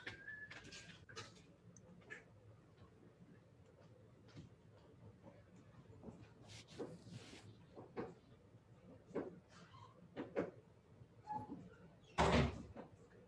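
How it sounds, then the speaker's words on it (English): A classroom door is shut with a single solid thump near the end, after a stretch of quiet room noise and scattered soft rustles. "close this door."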